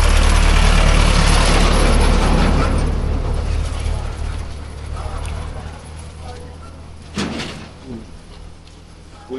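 A multipurpose tractor engine rumbles loud and low at first, then fades to a lower steady drone, with a thud partway through and people talking over it on a mountain route.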